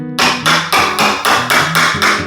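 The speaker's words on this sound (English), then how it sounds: "It's a bit too big for a Stanley knife, this one, so the old hammer and chisel comes out." A hammer drives a chisel to cut out a damaged piece of wooden floorboard, landing eight loud, sharp, evenly spaced strikes close by with no talking.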